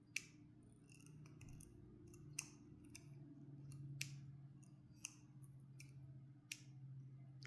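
A tatting shuttle clicks faintly as thread is passed through and wound onto its bobbin, giving small sharp ticks at irregular intervals over a low steady hum, close up and quiet.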